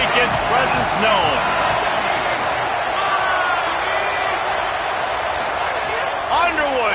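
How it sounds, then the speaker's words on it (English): Loud stadium crowd at a football game roars continuously, a dense wall of voices with whistles and shouts rising above it, close and unbroken for the whole stretch. "This crowd ready to make its presence known."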